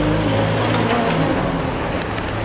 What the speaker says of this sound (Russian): Видите, как машина там едет